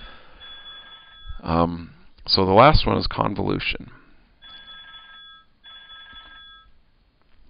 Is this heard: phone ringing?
yes